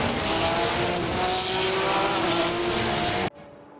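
A grid of Porsche cup race cars in a racing sim game forms up, their engines making a dense, loud roar with whining tones and a faint tire hiss that holds steady, then cuts off sharply near the end.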